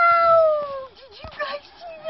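A cat at a lakeside gives a drawn-out, wavering meow close by, followed by a shorter second call, with people talking around it.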